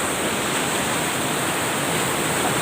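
A river swollen by heavy rain rushes past as a steady, broad roar of water that stays loud and unbroken throughout, with no voices heard.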